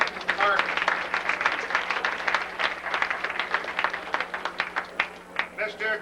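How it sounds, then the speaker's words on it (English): Audience applause for an award recipient at a high school awards ceremony, a fairly quiet but clear run of crisp claps from a modest crowd, thinning out toward the end. "Please give a round of applause for Mr. Parkin."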